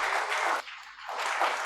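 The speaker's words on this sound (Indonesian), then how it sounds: "Beri tepuk tangan untuk Tuhan." A church congregation at a Sunday service claps together in a dense burst, dips for a moment, then swells again, fairly close and with no speech over it.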